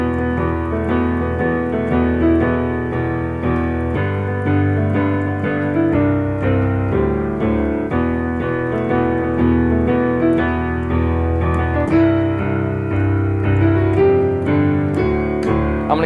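A swing piece played on piano with the left hand in steady crotchets under a right-hand melody, a moderately loud, even pulse of chords heard alone.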